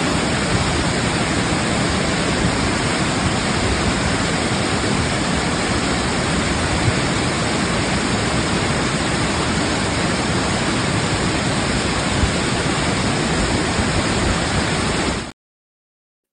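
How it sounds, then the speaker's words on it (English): Steady rushing water like a waterfall or fast stream, used as a holy water cleanse effect, runs loud and unbroken throughout, then cuts off abruptly near the end. "Let's cleanse this with holy water because, ooh, they need it."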